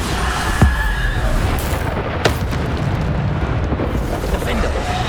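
A Bombarda spell explodes in the Hogwarts Legacy video game as a deep, rumbling boom under a dense, noisy game soundscape, with sharp bursts near the start and middle.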